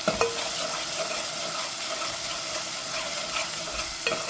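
Onion and tomato with salt and asafoetida are stirred as they fry in a pan for a ridge gourd and prawn curry, giving a continuous moderate sizzle with occasional utensil scrapes and taps.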